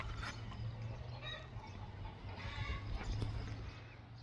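A flock of chickens in a farm pen clucking softly and continuously at close range, with low murmuring calls throughout.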